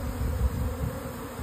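Honey bees buzz steadily around a beehive on a warm spring day in middle Tennessee, a dense, continuous close drone with no talking.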